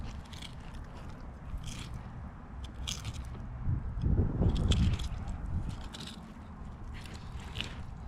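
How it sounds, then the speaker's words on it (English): Faint scraping and crunching as a knife slides through a large fish along its backbone, with a louder gritty rasp midway as it grinds along bone. "take your knife and slide it along the backbone of that fish"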